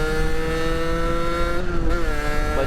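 Engine of a car fitted with a new motor revving and accelerating hard in a steady, loud, continuous drone, its pitch holding then dipping slightly near the end, with no talk over it.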